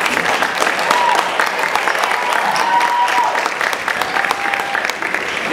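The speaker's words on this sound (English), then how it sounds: "give Sean a round of applause for his lovely birthday" An audience at a spring music union concert applauds, giving loud, dense, sustained clapping throughout with some voices mixed in.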